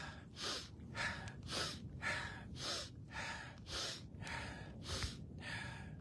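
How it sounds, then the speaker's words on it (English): Deep breaths during an exercise routine, a close, even cycle of about eight strong breaths, each long and airy, with no talking. "Now we're going to inhale on this side."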